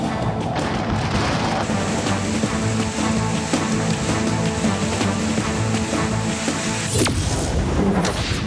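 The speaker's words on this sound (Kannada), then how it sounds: "ರಾಜ್ಯಾದ್ಯಂತ ಭಾರಿ ಮಳೆ ಆಗಿದೆ" Heavy rain mixed with hail falls across Karnataka, making a dense, continuous roar of pelting drops that stays loud and unbroken throughout.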